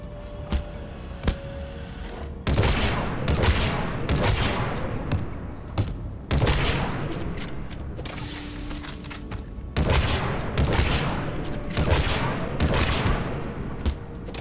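Repeated heavy blasts from the Disciple shotgun in Mass Effect 3, several loud booming shots with decaying tails spaced a second or two apart, over a steady bed of game ambience.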